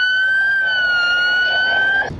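A warning siren linked to an AI safety camera on the back of a roadside service van wails loudly and steadily at close range, holding a high tone for about two seconds before cutting off abruptly.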